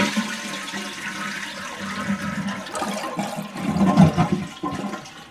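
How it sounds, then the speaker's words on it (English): A household toilet with a worn flapper flushes twice in a row, a loud rushing and gurgling swirl of water that builds toward the end, close by and without speech. "Because I got a double flush."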